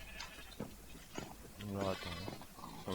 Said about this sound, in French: je tonds et je cours tout seul les moutons